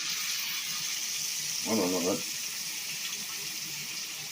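Passata tomato sauce pours into a cooking pot with a continuous, gushing liquid rush, and a voice briefly speaks partway through.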